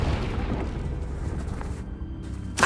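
Confringo fire spell from Hogwarts Legacy blowing up, a sustained low rumbling boom that rolls for over two seconds before a sharp burst at the very end.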